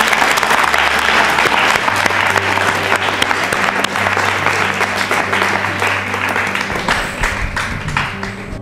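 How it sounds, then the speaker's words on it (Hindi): Loud, sustained applause from a large audience at a state-round national election quiz show in Rajasthan, dense clapping filling the hall with low music or hum underneath throughout. "तालियां बजाइए जोरों से"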